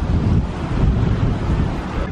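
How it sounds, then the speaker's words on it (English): Ocean waves wash up on a Bahamas beach at Lighthouse Pointe, Grand Bahama, with steady surf close by and heavy wind buffeting the microphone throughout. "They do have some waves coming in"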